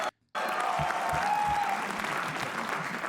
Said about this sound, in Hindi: तालियां इनके लिए प्लीज।